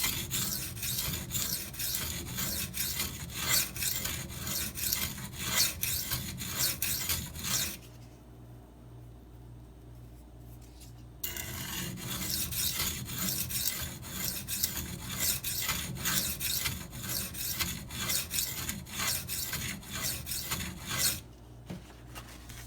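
A Maxamet steel knife is sharpened on Venev diamond stones in repeated quick rasping strokes, rhythmic and close, with a pause of several seconds in the middle before the scraping resumes.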